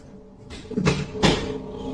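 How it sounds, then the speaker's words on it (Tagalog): Two dull knocks against a wall, about half a second apart, each a short muffled thud with a brief rattle, over a quiet background. "may ano umahampas sa pader"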